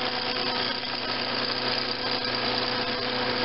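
Lathe spinning a paraffin block for a lamp at 1500 to 2000 rpm, giving a steady, even mechanical hum that runs unchanged throughout with no talk.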